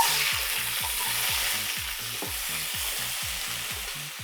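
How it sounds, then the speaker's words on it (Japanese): Steady, hissing sizzle of sliced lotus root frying in hot sesame oil in a 24 cm pan, continuous and close, with a faint low repetitive hum running underneath. "油温まったらレンコン入れていきます。"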